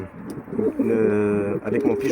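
Soft, throaty cooing of a fantail hen pigeon and a Texan cock pigeon in a hutch close by, a sustained rolling coo with a few brief chirps around it.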